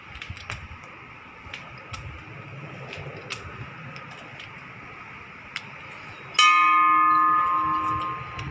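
A bell rings out sharply in a bar after a stretch of low background chatter and tapping, its bright tone ringing on and slowly fading.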